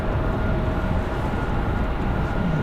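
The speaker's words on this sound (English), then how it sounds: "Racing down the runway. There's the American 777." An American Airlines Boeing 777 jet roars in a broad, steady rush as it takes off down the runway at Raleigh-Durham at night, heard from a distance, continuous and without talking.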